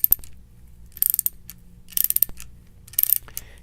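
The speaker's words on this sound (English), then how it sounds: "Continue ratcheting and advancing the flaring cone until the internal breakaway clutch disengages." A ratchet wrench clicks in quick bursts of crisp metallic ratcheting as it turns and advances the cone of a Uniweld deluxe flaring tool, three or four bursts about a second apart, close and loud.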